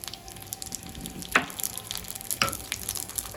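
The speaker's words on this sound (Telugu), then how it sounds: "నెయ్యిలో చక్కగా ఇలా గోల్డ్ కలర్ వచ్చే వరకు వేయించుకోండి కొంచెం గసగసాలు" Poppy seeds frying in ghee until golden, a soft crackling sizzle with a couple of sharper scraping stirs, close and moderately quiet with no talking.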